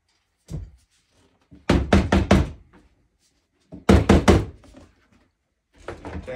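A spray paint can is tapped and shaken in two loud bursts of rapid rattling knocks, with short single taps before and after and quiet gaps between.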